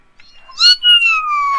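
A person's voice imitates a kitten's meow, drawn out and rising then falling, loud and close with no other talk over it.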